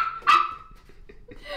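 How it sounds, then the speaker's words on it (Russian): A dog gives a single sharp bark, close and fairly loud, in an indoor setting during a blindfolded cheap-versus-expensive food tasting, with quieter background sounds following. "Кася, не гавкай, пожалуйста."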